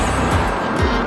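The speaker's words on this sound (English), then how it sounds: "A lot of traffic on this road today." Cars passing on a road through Wister Lake State Park in Oklahoma, a brief rushing pass close by over steady outdoor noise, with a faint voice.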